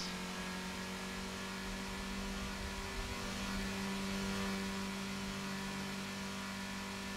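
Race cars in a driving simulator game roar steadily, a continuous engine drone and whir that stays fairly even and low in level throughout, with no voices over it.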